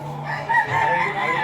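A rooster crows once, a short, loud, nearby call that rises and holds briefly.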